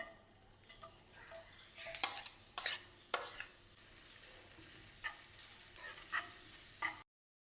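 Sliced onions sizzle in hot coconut oil, with crackling frying throughout and several sharp stirring scrapes of a utensil against the pan at irregular intervals, close and clear with no talking.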